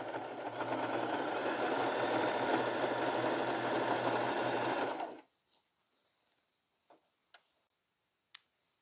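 Sewing machine stitching patches onto thrifted denim jeans, a loud steady whirring run for about five seconds, then it stops and only faint clicks and small ticks remain.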